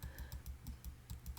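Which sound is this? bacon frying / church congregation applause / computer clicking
computer clicking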